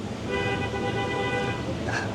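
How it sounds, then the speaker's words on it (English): A car horn sounds in a sustained toot amid traffic noise in the Philippines, with a voice speaking faintly underneath. "As you can hear, the horns"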